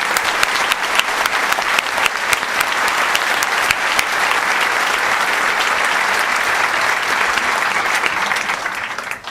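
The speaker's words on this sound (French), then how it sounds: "Oui, vous pouvez les applaudir" Sustained applause from a large crowd at a peace rally in Paris, dense and steady clapping at close range that holds for about nine seconds before easing slightly at the end, with no voices standing out.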